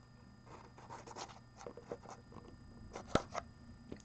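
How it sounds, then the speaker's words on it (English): A blade slices through the plastic seal of a mini crate box with quiet scratchy, ripping strokes close by, ending in a sharper snap as the seal gives way. "So I am gonna just cut this seal open here"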